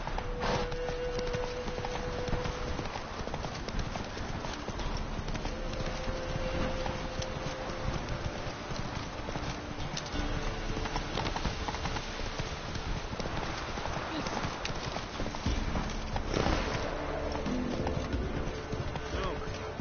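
Roach, the horse from The Witcher 3, trots steadily with a continuous clip-clop of hooves under constant game ambience, sustained throughout without pause.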